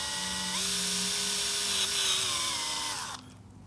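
A small power drill whines steadily while enlarging screw holes in 3D-printed plastic lightsaber fins, its pitch shifting slightly as it bites, before spinning down and stopping near the end; nobody speaks.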